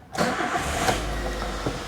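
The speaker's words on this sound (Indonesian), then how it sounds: "Saya akan nyalakan mesinnya." A 2008 Toyota Avanza G engine cranks and fires up, settling into a steady, close, loud idle rumble that continues to the end with no talking.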